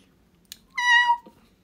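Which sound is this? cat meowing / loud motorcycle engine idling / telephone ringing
cat meowing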